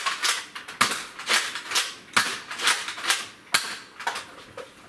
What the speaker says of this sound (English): the last time I fired from all chambers out of a rough cut